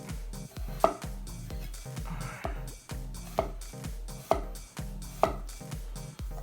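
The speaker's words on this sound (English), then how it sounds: "Go ahead and cut this potato in half." A knife, a $40 Dalstrong Shogun Series X, cuts through a potato on a board in a series of close, distinct thunks and chops, about seven evenly spaced strikes with soft scraping between them.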